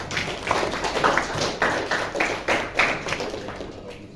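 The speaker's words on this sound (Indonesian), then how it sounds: "Tepuk tangan dong buat" Classroom applause during a physics lesson on hydrostatic pressure, with a small group of students clapping in uneven, fairly sparse bursts at moderate loudness and no talking over it.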